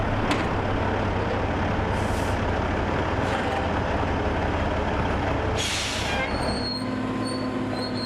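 A log delimber stroking limbs off logs while a loader decks them, at a Yuba County timber operation: constant loud heavy machinery drone with hydraulic hisses, brief sharp bursts and metallic squeals, with no speech.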